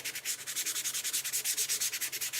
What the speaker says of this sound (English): I'm just sanding very lightly. I'm using a very dull 220 grit block